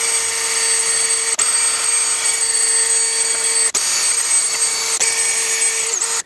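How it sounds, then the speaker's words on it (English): A drill spins a wire wheel against a rusty pipe while the catalytic converter on a 2008-2020 Dodge Grand Caravan is replaced, giving a loud, steady whine that stops briefly three times before cutting off at the end. "I'm gonna use a wire wheel on a drill and just get all this rust off of here"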